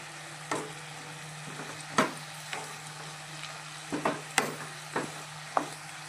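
Prawn curry masala with ginger paste and chili and turmeric powder frying in a pan, a low continuous sizzle broken by sharp, regular spoon clacks and scrapes as it is stirred.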